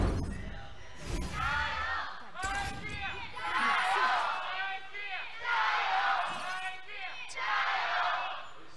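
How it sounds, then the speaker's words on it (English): A stadium crowd at a League of Legends esports match, Invictus Gaming versus Topsports Gaming, chants in loud rhythmic waves for IG. The chants swell and repeat steadily across the whole stretch, with a few sharp thumps near the start. "the IG chants filling the stadium"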